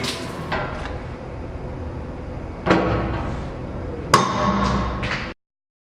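A Charpy impact test pendulum hammer strikes a 17-4 PH steel sample, giving a sharp metallic bang with a ringing tail. A second, louder strike follows about a second and a half later, with smaller clatters between and no talk.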